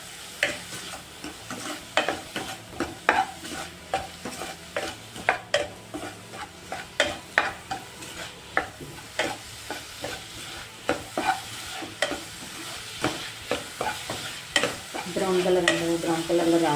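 Onions sizzle in a pan while a spoon stirs and scrapes them in repeated sharp strokes over a steady frying hiss, with the sizzle swelling louder near the end.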